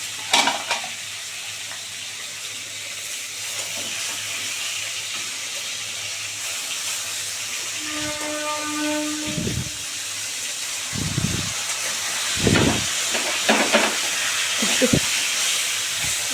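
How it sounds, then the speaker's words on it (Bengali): Aar fish fry in hot oil with a steady, loud hiss of sizzling, punctuated in the second half by sharp spattering pops and bursts of crackle, close up. "কেন এই মাছ না প্রচণ্ড ফাটে"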